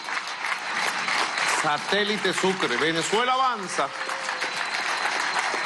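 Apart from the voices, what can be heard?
applause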